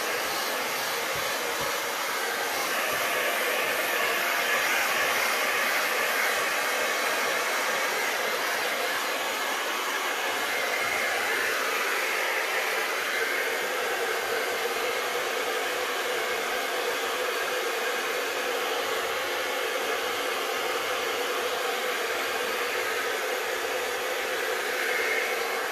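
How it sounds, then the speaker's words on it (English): A hair dryer on its high setting blows steadily and close, drying resin artwork, a continuous airy whoosh with no pauses for the whole stretch. "I'm going to get the hair dryer out."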